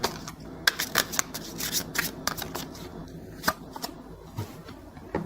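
Tarot cards being shuffled and drawn for a love reading, with a run of quick papery riffles and flicks, then sparser soft slaps and slides of single cards, close and fairly quiet with no talking.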